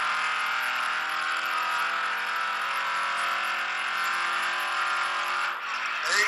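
A race car at a Texas track driving school drones steadily as it accelerates, a continuous dense engine roar heard from inside or close by, holding nearly constant loudness throughout without a break.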